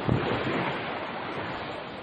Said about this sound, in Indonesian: Suara alam ini, pantai yang sangat indah.